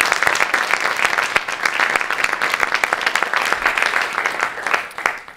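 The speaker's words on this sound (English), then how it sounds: "Another round of applause, please, for Ilan Pappé." A crowd at a talk on Britain's role in Palestine applauds the speaker, with dense continuous clapping that stays loud and even throughout, individual hand claps standing out sharply in the thick wash.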